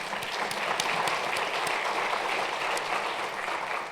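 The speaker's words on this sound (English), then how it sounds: "Let's have a round of applause for them." Steady applause from a crowd, many hands clapping together with a dense, even roar that holds for the whole stretch.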